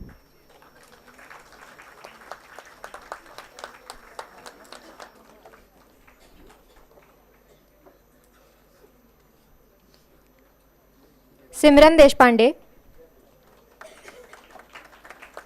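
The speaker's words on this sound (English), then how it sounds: "We can put more efforts in our claps, please." An audience at a graduation ceremony claps in soft, scattered patter at a distance, then falls quiet before a short amplified voice announces a name and the light clapping returns.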